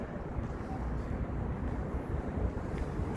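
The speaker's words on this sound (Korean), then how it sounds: "바람도 불고 있고" Wind blowing outdoors on a walk home, a steady broadband rumble and buffeting against the microphone, fairly even in level with small gusty surges, no voices.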